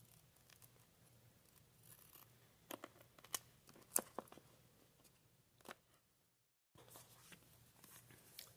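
Scissors snipping paper for a bullet journal: a handful of quiet, close crisp cuts and rustles clustered in the middle, with soft paper handling around them in a hushed room.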